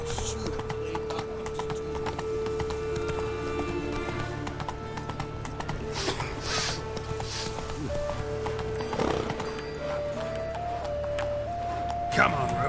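Horse hooves clip-clop steadily in The Witcher 3 game, running under continuous in-game music along with an occasional whinny and a few brief vocal sounds.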